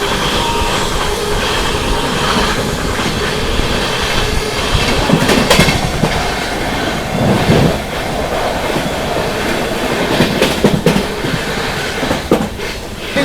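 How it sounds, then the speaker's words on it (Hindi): The Sealdah Rajdhani Express roars past in a crossing on a rainy journey, a loud continuous rumble of wheels and clattering rail joints with short metallic bursts and squeals. "शियालदह राजधानी के साथ क्रॉसिंग बताना ज़रूर।"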